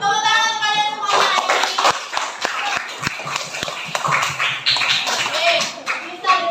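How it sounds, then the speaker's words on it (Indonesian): A classroom of students claps hands together on cue during a lively lesson, a burst of scattered, overlapping claps with sharp individual slaps, mixed with children's voices and chatter throughout. "Tepuk tangan kalian semuanya"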